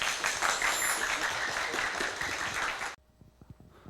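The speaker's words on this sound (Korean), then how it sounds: "큰 박수 부탁드립니다." An audience at a high school admissions briefing applauds the school principal, a dense burst of clapping lasting about three seconds that cuts off sharply, leaving a few scattered claps in a quiet room.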